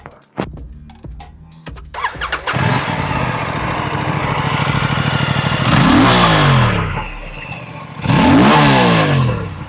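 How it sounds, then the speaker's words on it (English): An Aprilia RS 457 motorcycle engine cranks and fires, settles into a lumpy idle, then gets two sharp throttle blips that rise and fall, loud and close with no talking. "Let me fire it up so you can hear it"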